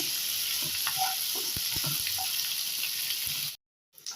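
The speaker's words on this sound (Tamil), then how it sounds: "வெங்காயம் நல்லா எண்ணெயிலே வதங்கிக்கோங்க" Onions sauté in hot oil for a mutton gravy, crackling and sizzling steadily with a few soft stirring knocks, then the sound cuts to silence near the end.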